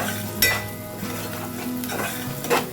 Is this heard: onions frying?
yes